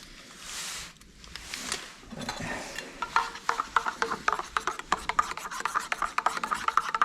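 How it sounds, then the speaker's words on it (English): A spoon stirs instant coffee powder into a mocha in a mug outdoors, scraping and clinking in a quick, steady rhythm of small rubbing strokes that grows busier toward the end. "And just keep on stirring."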